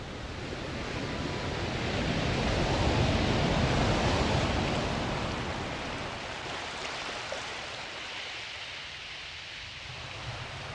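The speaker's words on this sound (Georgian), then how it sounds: "გამუდმებით მესმის ზღვის ხმა." Steady roar of sea waves breaking on a shore, a broad continuous wash of surf that swells in the middle and then eases to a softer hiss, with no voices.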